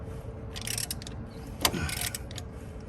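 A Chevrolet Silverado engine is turned over by hand with the valves moving, giving a steady mechanical ratcheting and clicking with a sharper knock midway, close and continuous under a dense background.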